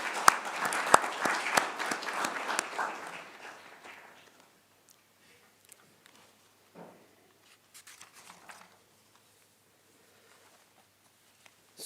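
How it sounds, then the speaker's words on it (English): A council meeting audience breaks into a round of applause that starts fairly loud, thins out after about four seconds, and trails off into a few scattered claps and quiet room noise. "I think that deserves another round of applause."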